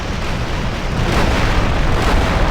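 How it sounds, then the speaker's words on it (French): A loud, sustained explosion roars with a dense, noisy blast that swells and rumbles on for a couple of seconds without fading. "avec le bruit d'explosion"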